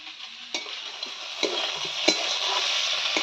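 Bitter gourd fries in a pan with a steady, close sizzle and a few sharp clinks and scrapes of a stirring utensil against the metal, with no voices.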